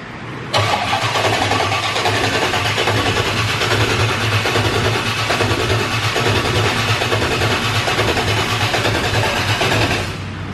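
A Corvette Z06 race car with a mechanical fuel pump fires up and holds on a two-step launch limiter, a loud, close, continuous rough engine roar with choppy pulsing that runs steadily for about ten seconds before cutting off.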